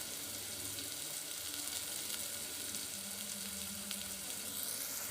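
A tempering sizzles and fries in a pan for ulava charu, a horse gram soup, giving a steady, close, continuous crackling hiss throughout with no talking.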